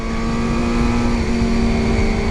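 Honda CBR 250RR or 400RR motorcycle engine revving hard while being ridden, a steady high-pitched whine sustained at close range with no letup and no voices.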